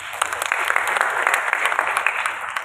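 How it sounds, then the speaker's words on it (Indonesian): An audience applauds a speaker with steady, dense clapping that holds at an even level throughout and carries no talk. "Tepuk tangan dulu untuk beliau."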